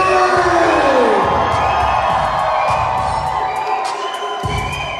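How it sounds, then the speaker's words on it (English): Wedding reception guests scream and cheer loudly together as a crowd, a sustained roar of shouts and whoops that fades slightly toward the end. "On the count of 3, 1, 2, 3, scream!"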